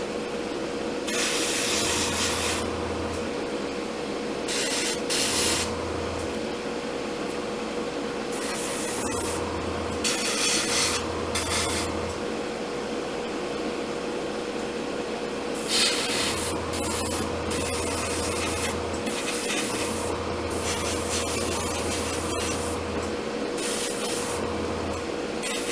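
Airbrush spraying paint inside the interior of an Academy SBD-5 Dauntless model aircraft kit, with repeated close hissing bursts of several seconds each over a constant compressor hum, no speech.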